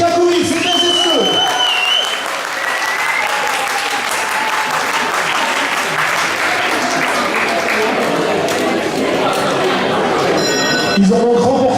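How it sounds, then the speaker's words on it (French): Crowd applause at an outdoor award ceremony after a charity run in Liège, Belgium, with steady sustained clapping throughout and a few whistles and tones on top. "Sous vos applaudissements, les GKBouilles, c'est bien Desneux."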